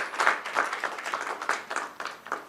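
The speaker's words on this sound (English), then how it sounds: "I think we should all just have a round of applause for all the frontline workers" An audience at a book launch event claps for frontline workers: a scattered round of hand claps, moderately loud and fairly close, continuing unevenly throughout with no voices over it.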